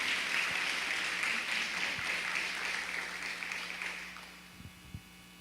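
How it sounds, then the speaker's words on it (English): Applause from an audience at a women's health summit, a fairly faint, dense wash of clapping that thins out and fades toward the end, leaving a few scattered claps. "Please give Vanessa Hill a big round of applause, everyone."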